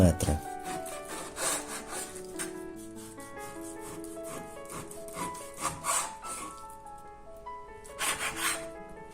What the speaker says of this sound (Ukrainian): Нарізаємо м'ясо товщиною до 1 см.